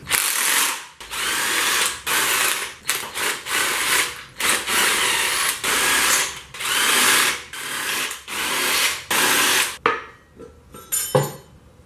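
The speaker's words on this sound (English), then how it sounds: "They're only hand tight down here, so I'm going to use a electric impact." Electric impact wrench spinning out hand-tight crankshaft bolts from an engine block during a Honda Del Sol engine build, in a string of loud, close whirring bursts with brief pauses, followed by softer metallic clinks.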